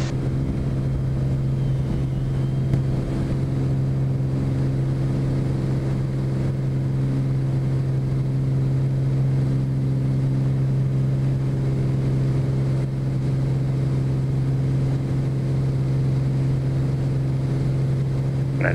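Engine of a Bonanza light aircraft climbing after takeoff, a loud steady droning hum with a constant propeller tone heard from inside the cabin, unbroken throughout.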